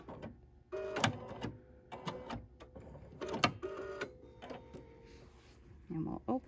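Sewing machine stitching a quilt block, running in several short bursts of a few seconds each, fairly close, with pauses between runs and light handling noise.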